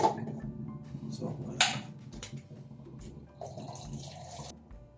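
Water runs and splashes from a tap while a pot is filled for cooking sauces, an uneven gushing hiss with clinks and bumps, under a person talking nearby in a kitchen.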